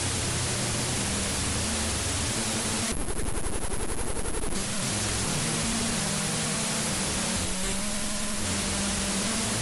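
LHCb particle-physics data of matter oscillating into antimatter, turned into sound: a dense hiss like white noise with two bursts of rapid rattling pulses rising out of it, one long and one shorter.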